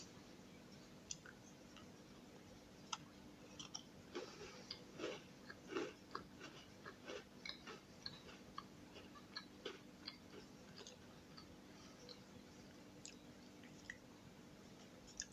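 Close, crunchy chewing of a milk chocolate bar on a biscuit, an ÉCO+ imitation of Petits Écoliers, with a run of irregular bites and crackles over a steady low hum and no talking.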